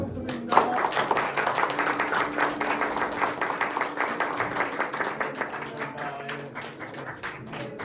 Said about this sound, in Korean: 축하의 박수 한번 부탁드립니다